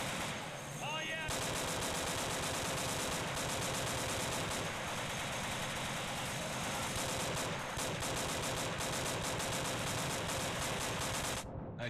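Heavy, sustained automatic gunfire from the shooter game Insurgency, with an M1 carbine and M93R in the fight, keeps up a loud, unbroken barrage of rapid shots for several seconds, with voices faintly mixed in.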